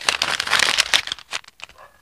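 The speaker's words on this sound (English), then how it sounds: "A paper. I can crumple it," A single sheet of paper being crumpled by hand, a dense, close crinkling that is loudest at first, then breaks into sparser crackles and rustles as the ball tightens, with no talking.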